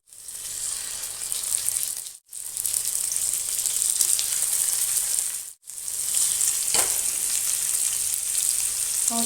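Fish frying in a pan gives a loud, dense, continuous sizzle, cut twice by brief silences, with a faint clink near the end.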